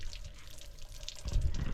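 Water drains and splashes down from a drum where bananas were washed, a steady wet trickle that swells into a heavier gush near the end.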